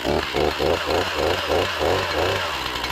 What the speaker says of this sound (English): But I'll start it and show you how it runs.